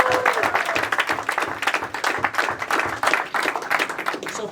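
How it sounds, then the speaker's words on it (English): Sales-meeting attendees in an office give themselves a round of applause, a close, lively burst of many hands clapping with an uneven, pulsing rhythm, no talking over it. "let's give ourselves a round of applause."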